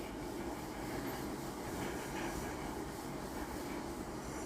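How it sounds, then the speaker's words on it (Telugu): A train runs steadily through a series of tunnels on a long-distance rail journey from Mumbai LTT to Kakinada, giving a continuous loud rumble and roar with no breaks, heard from inside the train. "కంటిన్యూ గుహల్లోంచి అలా వెళ్తూనే ఉంది ట్రైన్."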